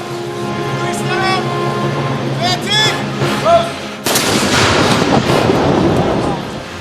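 A WW2 German anti-tank gun fires at an outdoor demonstration: a sharp, loud report about two-thirds through cuts in and leaves a broad rumbling echo, preceded by background noise and faint whistling tones.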